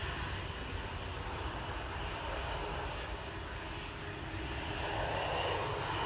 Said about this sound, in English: I don't think you heard me with the EasyJet taking off in the background